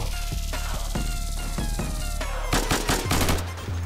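Rapid close gunfire from Insurgency, a run of sharp single shots giving way to a dense fusillade of overlapping bursts toward the end, loud and unaccompanied by speech.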